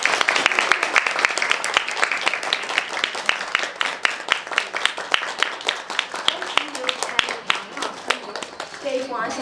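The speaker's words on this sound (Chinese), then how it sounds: "让我们以热烈的掌声来欢迎嘉威进场" Guests clap warmly for the bride's entrance at an engagement ceremony in a hotel banquet hall, a dense, steady burst of many hands that runs throughout, with faint voices mixed in near the end.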